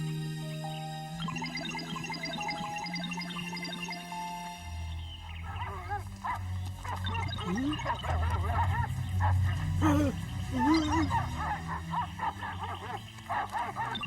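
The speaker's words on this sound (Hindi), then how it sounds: "अचानक से ये कुत्ते कहाँ से आ गए?" Several cartoon dogs bark, yip and growl loudly and repeatedly, close up. Music plays first, then the barking takes over and continues through the rest of the scene.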